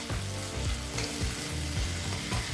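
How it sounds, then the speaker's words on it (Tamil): Brinjal (eggplant) sautéing in a pan, a steady close sizzle and fry with repeated scraping stirs of a spatula at a regular rhythm, no talking. "கத்திரிக்காய் சேர்த்துட்டு நல்லா வதக்கிக்கலாம்."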